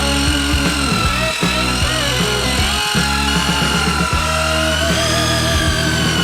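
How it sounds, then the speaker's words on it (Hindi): A handheld construction mixer churns thick chocolate dough with a loud, close, whining motor drone that strains and wavers as the paddle works through the heavy mixture. "इसे अच्छी तरह से मिलाने के लिए हम इस तरह के कंस्ट्रक्शन मिक्सर का उपयोग करेंगे।"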